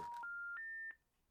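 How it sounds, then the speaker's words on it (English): Three rising electronic phone tones in quick succession, each a clean steady beep a little higher than the last, signal a telephone call dropping during an interview, followed by a brief burst of voice. "Well, the phone cut off."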